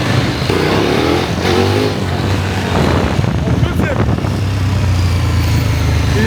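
A KTM 1290 Adventure S motorcycle accelerates hard with rising engine revs and a gear change partway through, loud and close, alongside wind noise and a voice talking over it.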